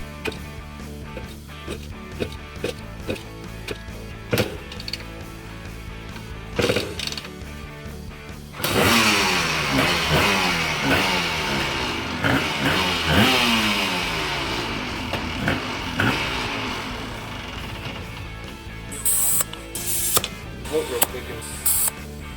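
A Honda TRX250R quad, left sitting for about 20 years, gets several clanking kick-start attempts before the two-stroke engine catches. It then runs loud and close with a rattly, revving buzz that rises and falls.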